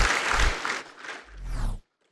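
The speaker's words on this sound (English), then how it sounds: "Thank you for the round of applause." An audience at a Summer Games Done Quick 2023 charity event applauds loudly, a dense wash of clapping that swells, dips and then cuts off abruptly near the end.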